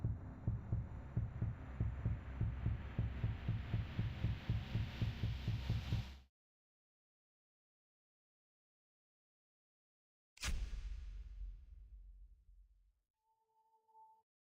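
A video game heartbeat effect pulses in a steady, rapid double-thump rhythm for about six seconds, then cuts to silence before a single deep thud swells and fades, with a faint tone at the end.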